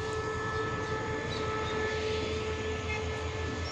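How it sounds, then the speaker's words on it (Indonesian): A steady, continuous rumble of a container freight train rolling past nearby on the Padang Besar to KL Sentral line, with a broad rushing roar and faint sustained tonal hum throughout. "Sini kereta-kereta kontainer."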